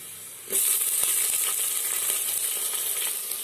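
Onions dropped into hot oil in a clay pot for a village-style fish curry, with a sudden loud burst of sizzling that settles into a steady, bright frying hiss and has no voices over it.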